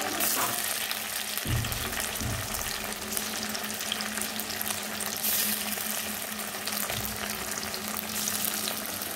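Chicken pieces for chicken 65 fry in hot oil, a loud continuous sizzle and bubbling heard close up for about nine seconds, with occasional stirring clatter.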